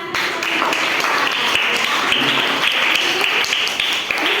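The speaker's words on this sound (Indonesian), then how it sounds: "Ayo kita beri tepuk tangan buat Sena" Children clapping in a classroom during a measurement lesson, a continuous patter of hands with sharper individual claps standing out, close and fairly loud without talk.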